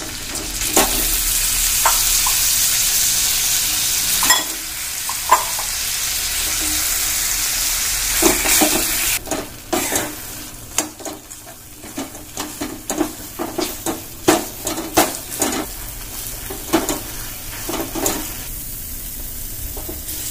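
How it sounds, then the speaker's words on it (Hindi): Broken pieces of mawa (khoya) frying in hot ghee: a steady, loud sizzle at first, then choppy bursts of crackling and scraping as the mixture is stirred, with no talk. "घी गर्म हो गया है, इसमें अब मावे को छोटा छोटा तोड़ करके डाल देंगे।"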